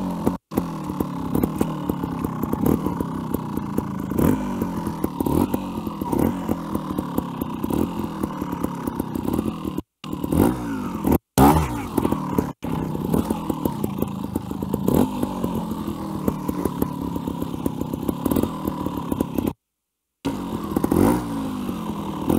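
A trials motorcycle in second gear climbs a rock, its engine droning steadily and loudly close by with throttle surges, rough clattering and a few brief cutouts.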